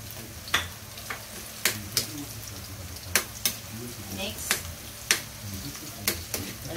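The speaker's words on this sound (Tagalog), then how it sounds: "magigisa na ako. Bawang. Ayan. Sibuyas at tutunod." Garlic and onion sauté in a pan with a steady, close sizzle, broken by regular sharp clicks and scrapes of a utensil stirring against the metal.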